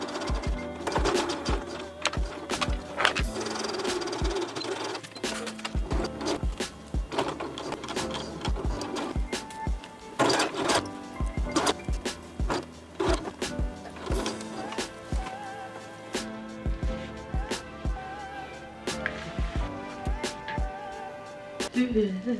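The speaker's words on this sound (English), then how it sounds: "Okay, everything is pinned and we are going to stitch this." A sewing machine stitching pinned silky pants fabric, with irregular rapid mechanical clatter, bursts of stitching and clicks over more than twenty seconds, close and steady, with a voice talking intermittently.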